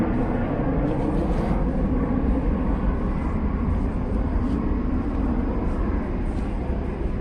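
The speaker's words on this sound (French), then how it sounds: "Ça fait partie du décor ici, mesdames et messieurs, les avions." Airplanes fly overhead near an airport, producing a steady, fairly faint roar that fills the background without any clear breaks.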